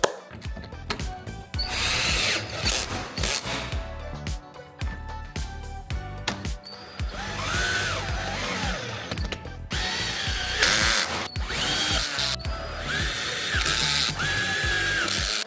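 A power drill tightens the bolts on a Korniche roof lantern, with repeated close whirring bursts that rise and stall, ratcheting clicks and short pauses between each bolt.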